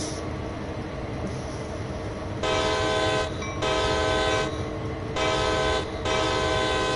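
Locomotive horn in the Train Sim World 2 game, sounding in three loud sustained blasts separated by short gaps over a steady rumbling engine and rail noise.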